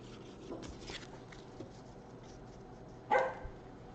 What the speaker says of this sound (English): even the dog's starting to get restless